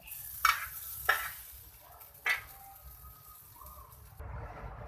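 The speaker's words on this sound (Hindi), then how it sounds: "इस तरह इसके ऊपर थोड़ा सा जो है ऑयल डालकर इसको हल्का सा प्रेस करेंगे।" Homemade shami kebab burger patties fry in oil in a pan, a steady soft sizzle broken by a few sharp clicks and scrapes of a utensil, ending in a brief louder hiss.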